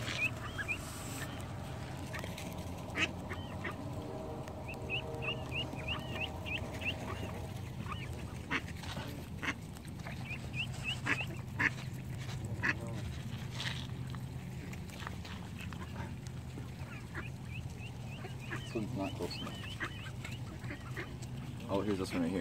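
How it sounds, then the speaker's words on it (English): Wild geese and ducks honk and quack repeatedly nearby during hand feeding, a mix of calls over soft outdoor background noise, with a person speaking at times. "I got pet geese here."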